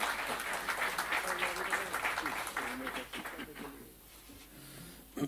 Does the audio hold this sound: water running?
no